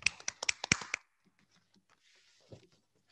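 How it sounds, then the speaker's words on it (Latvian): An audience at an awards ceremony for a Christmas decoration contest gives a short burst of sharp hand claps that stops abruptly after about a second, followed by quiet room sound and a faint thud. "Aplausi!"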